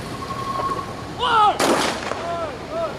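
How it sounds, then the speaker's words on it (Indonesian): A single loud gunshot cracks nearby during a city security drill in which a vehicle carrying an election commission chairman is fired upon, with brief voices and chirps around it. "kita saksikan sini kendaraan dari Ketua KPU ditembak"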